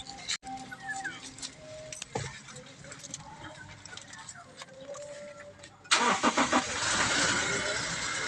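A Toyota Fortuner, just fitted with a repaired starter, sits quiet under faint talk and small clicks, then its starter cranks and the engine catches, settling into a loud, steady idle close by.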